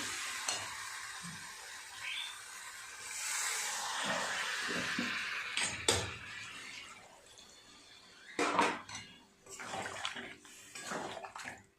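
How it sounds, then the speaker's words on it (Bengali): Water pours into a pot of young jackfruit curry with spiced vegetables, a continuous splashing rush with clinks of a spoon against the pot, close by, ending in a few shorter pours and stirs. "এবার জল দিয়ে দেবো।"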